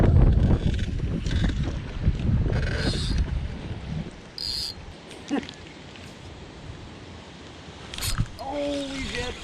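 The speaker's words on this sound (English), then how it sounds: "it is windy" Wind gusts across a lake while bass fishing from a boat with no motor, a broad steady rush strongest at the start with occasional knocks and water sounds, fading somewhat later on.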